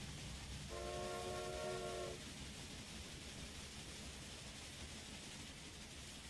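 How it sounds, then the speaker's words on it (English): A train in the railway building game Railway Empire rumbles past at a distance under steady noise, sounding a sustained horn for about a second and a half early on before the rolling continues faintly. "There was a train, another train."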